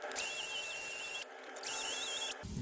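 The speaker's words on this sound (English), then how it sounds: "So just got a drill now, a little flappy pad on it." A drill fitted with a small flap pad spins inside the holes of a Mitsubishi L200 propshaft yoke during a UJ replacement: two loud, close bursts of high whirring grind, each about a second long, with a short pause between.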